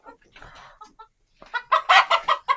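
Egyptian Fayoumi hens clucking close by, a few soft scattered calls followed by a louder run of five or six rapid, sharp clucks.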